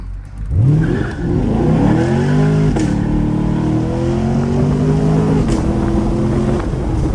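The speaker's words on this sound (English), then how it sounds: "let me just show you how I launch from a dig real quick" Chevrolet Camaro SS launching from a dig at full throttle, a close, loud engine roar that climbs steeply in pitch through several rising sweeps and then holds a strong, steady howl.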